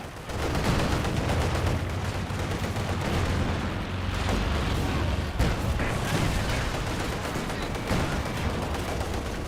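T-70 light tank fires in the Company of Heroes 2 battle game, amid a dense, continuous barrage of gunfire, machine-gun rattle and booming explosions that stays loud throughout, with no talk.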